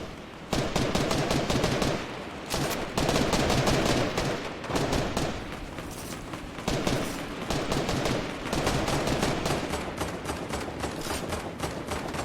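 An airstrike in an online battle royale game brings rapid bursts of heavy gunfire and repeated explosive cracks, loud and dense for the whole stretch with only short pauses.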